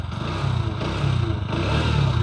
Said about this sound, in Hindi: एग्जॉस्ट नोट सुनो। NS 125 का